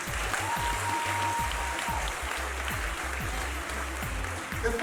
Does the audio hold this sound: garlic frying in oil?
no